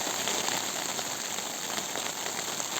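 Steady, dense rain pouring down in the Carpathian mountains, a constant loud hiss of drops hitting surfaces with no letup and no voices.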